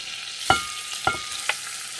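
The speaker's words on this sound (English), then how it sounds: "I'm kind of going to saute that rice in that for a few minutes" Rice sautéing in a hot pan, a constant sizzling hiss broken by three sharp spoon knocks against the metal in quick succession.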